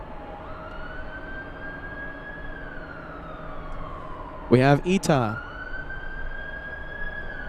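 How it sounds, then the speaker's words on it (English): Police sirens wail close by near LAX airport, a sweeping tone that rises and falls before a sharp burst of yelps, heard under ongoing speech and airport background noise. "Sorry for the sirens."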